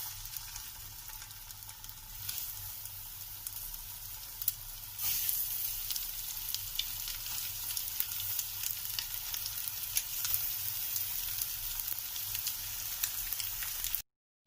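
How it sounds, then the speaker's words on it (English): Fish frying in hot oil in a pan, giving a continuous dense sizzle and crackle that grows louder partway through and then holds steady, with no voices over it. "Now I am going to fry the fish in it."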